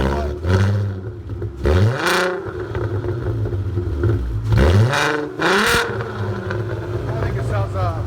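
A bone-stock 2003 VW Jetta GLI with a 5-speed and a muffler-deleted exhaust revs in a few sharp, rising blips that fall back to a loud, steady idle rumble. The car sounds close, with no talk over it.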